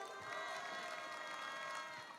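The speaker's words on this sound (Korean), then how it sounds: "큰 박수 한번 부탁드리겠습니다" Crowd at a May Day labor rally in Incheon cheers and applauds a pungmul percussion troupe, a sustained wash of distant clapping and voices with faint tonal ringing, steady and fairly quiet, with no distinct talk.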